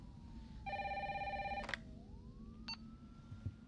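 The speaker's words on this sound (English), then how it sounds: "Now I can answer the phone." A telephone ringing in the Resident Evil 3 video game, one sustained electronic ring burst followed by short beeps, moderately loud over a low rumbling background.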